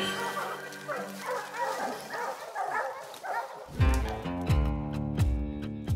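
Hunting hounds, puppies among them, bark and yip on a bear hunt at sunrise over a flooded cutover, with a busy, overlapping chorus that becomes sharper, louder and more rhythmic in the second half.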